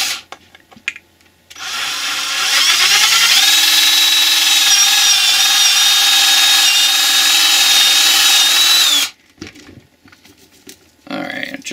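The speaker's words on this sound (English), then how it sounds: "So just keep that in mind when you're drilling the hole" A power drill bores a hole for a cable gland in a wire harness build, a loud steady whine lasting several seconds with a rising pitch as it spins up, bracketed by handling clatter.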